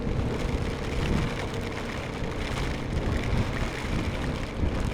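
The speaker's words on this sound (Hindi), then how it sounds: "ये वो तेज़ वाली बारिश होती है ना" Heavy rain pours down steadily during a ride through Uganda, a dense, unbroken hiss and patter that stays loud and constant throughout.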